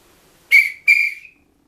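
A referee's whistle sounds two sharp, shrill blasts signalling halftime, the first short and the second held a little longer, loud and close with no talking.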